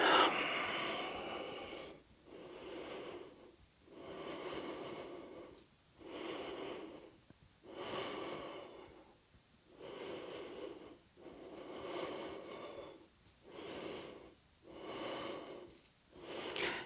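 Slow, deep breathing during a yoga flexibility stretch: eight or nine long, even breath cycles in steady rhythm, each audible inhale and exhale rising and falling, close and clear with no talking.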